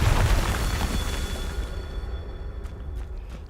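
Confringo spell blast in the Hogwarts Legacy video game, a loud, deep explosive burst that rumbles and slowly decays over a few seconds, with faint ringing tones and small crackles as it fades.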